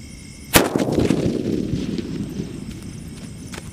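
A single loud, sharp sutli bomb Diwali firecracker blast near the start, followed by a long crackling, rumbling decay and echoing outdoor noise.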